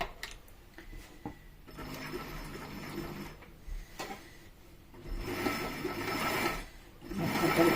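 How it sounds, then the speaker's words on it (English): HandiQuilter Moxie XL machine sewing a zigzag stitch, with a fairly quiet mechanical whir and rapid needle chatter that rises in bursts, close by and with no talk. "I am now going to do the zigzag safe stitch down there as well to stop it all from fraying"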